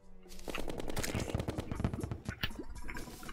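Rapid bursts of gunfire in the video game Terraria, a dense volley of sharp shots fired in quick succession, loud and close, with no talking over it.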